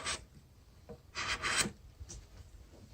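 A chisel pares the chamfered edge off a timber frame tenon in a few short scraping strokes, close and fairly crisp, with quiet gaps between.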